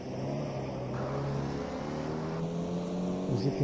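Racing car engine in the GT Legends video game running out of fuel, a steady droning engine tone that stutters and misfires, close and continuous throughout.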